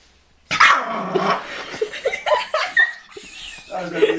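A puppy barks and yips indoors amid a noisy household, with several people talking and a child crying over and around the short, irregular barks.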